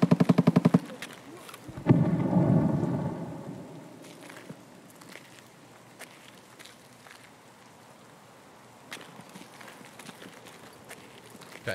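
AK rifles fire in the video game Escape From Tarkov: a rapid burst of shots at the start, then a heavier rumbling volley, followed by scattered distant single shots over a quiet background.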